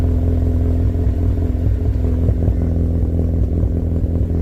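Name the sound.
Mazda RX8 engine idling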